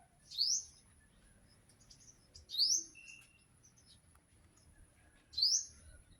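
Sunbird (tamsi) in a flowering makopa tree gives three bright, sharp chirps spaced a couple of seconds apart, fairly close and clear over a faint low rumble of background noise.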